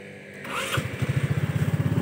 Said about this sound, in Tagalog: i-start nyo muna yung makina ng motor nyo once na nakumpleto nyo na yung pag change oil ng motor